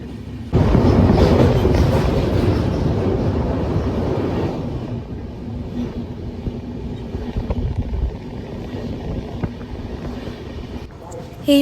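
A train rumbles steadily on the rails through hills and river country with a low, continuous roar that gradually softens, nearby and fairly loud.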